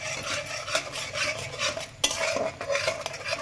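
Spices such as chili powder, coriander powder and Kashmiri chili being stirred in a cooking pot while making pointed gourd dolma, with a spoon scraping and clinking against the metal in an uneven rhythm and a faint sizzle underneath.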